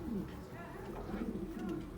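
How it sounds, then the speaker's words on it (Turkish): Soft, low cooing from a pigeon repeats in a steady rhythm against a noisy background, with a few faint higher chirps. "çok güzel bir kuş geldi."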